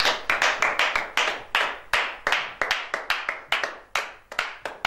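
A church congregation claps in acclaim of Jesus, a brisk run of sharp, close handclaps in an uneven, lively rhythm with no voices over it.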